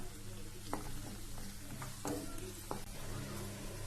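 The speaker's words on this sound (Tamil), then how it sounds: "இப்போ இது கொஞ்சம் நம்ம பொரிக்கலாம்" Coconut pieces fry in oil with a continuous soft sizzle, and occasional scrapes and stirring clicks sound near the pan, while cooking Erode Pallipalayam chicken.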